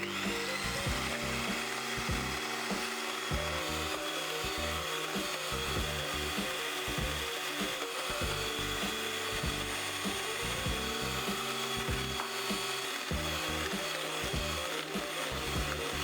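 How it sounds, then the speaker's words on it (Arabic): An electric mixer whips 120 grams of egg whites with 90 grams of sugar into meringue for macarons. A steady motor whir runs throughout, with rhythmic scraping and knocking of the beaters against the bowl, fairly quiet and free of speech. "وهنا نطلع 120 غرام ديال بياض البيض مع 90 غرام ديال السكر سنيده"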